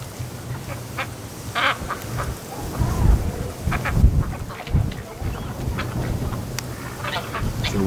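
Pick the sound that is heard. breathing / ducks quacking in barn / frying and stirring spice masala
ducks quacking in barn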